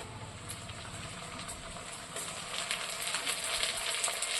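Ginger and garlic paste hits a frying pan of onions fried until reddish, giving a steady close sizzle and crackle that swells slightly louder partway through.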